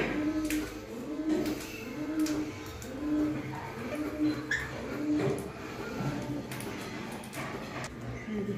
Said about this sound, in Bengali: একদিন চলে এসেছে একটা পায়রা। আরেকজন আসেনি, এসে মাঝে মধ্যে একটু ডাকছিল, ঘু ঘু করে ডাকে